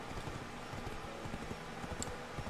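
Horse hooves clip-clop steadily while riding in Black Desert Online, a continuous run of close, even hoofbeats with no talking.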